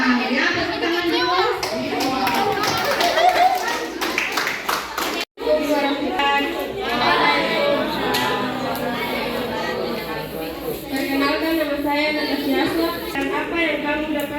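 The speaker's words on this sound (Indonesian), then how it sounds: "Ya, tepuk tangan dulu." A classroom of middle school students claps together at the end of a lesson, the clapping swelling into rapid, dense bursts alongside children's chatter and voices, with a teacher speaking over it.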